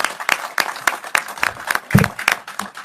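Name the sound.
applause from film workers at an announcement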